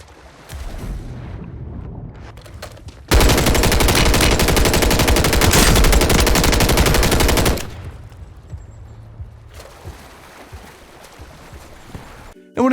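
Automatic weapon fire in the Warzone video game, played on a Geekom IT13 mini PC, bursts out in a loud, sustained rattling barrage for about four seconds between quieter stretches of game ambience.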